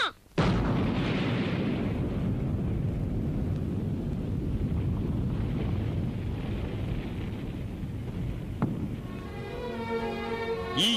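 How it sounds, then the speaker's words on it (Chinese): Archival record of China's first hydrogen bomb detonation in 1967, a sudden loud blast giving way to a long, sustained deep rumble that rolls on steadily, with a faint hiss above it. "上午8时20分，我国第一颗氢弹爆炸成功了。"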